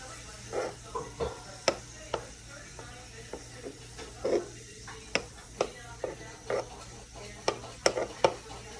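Butter melts in a pan for mac and cheese with a quiet sizzle, broken up by repeated sharp clicks and scrapes of a utensil stirring against the pan.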